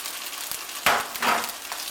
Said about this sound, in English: So I'll brown the sausages, clean the pan out, back in they go.